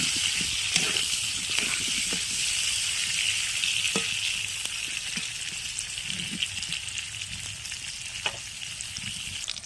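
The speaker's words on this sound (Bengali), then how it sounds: "আমি এঁচোড়গুলো সব দিয়ে নাড়াচাড়া করছি।" Young jackfruit pieces fry in oil with a steady, soft sizzle while they are stirred. Scattered scraping and clinking stir sounds come through at moderate level, with no talking.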